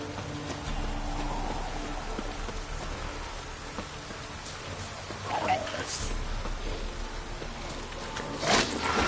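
Steady rain in the video game The Witcher 3 falls as a constant soft hiss, joined by a few brief clattering sounds near the end, while someone talks over it.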